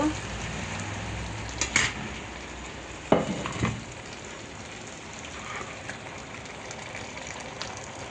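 Quiet, steady sizzle of hilsa fish and egg frying in a pan, with a few sharp clinks and spatters of utensils standing out.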